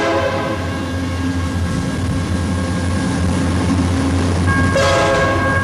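A train rumbles loudly past nearby, its horn sounding in sustained tones over the heavy rolling roar of the cars.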